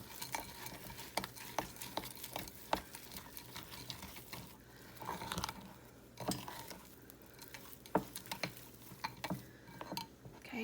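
Devil's food cake mix cookie dough with pecans is stirred in a bowl, making quiet, irregular scraping and tapping strokes with soft clicks, close and alone.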